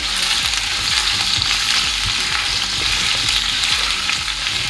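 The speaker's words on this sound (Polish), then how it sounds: "Więc smażymy cebulę." Steady, dense sizzling of onions frying in a pan for courgette lecso, loud and continuous throughout, with no voices.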